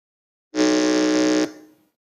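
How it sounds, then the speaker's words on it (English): A school team's quiz competition buzzer gives a single loud, harsh electronic buzz lasting about a second, then cuts off with a short fading tail, heard alone. "we would want to hear how the buzzer from each one of you sounds"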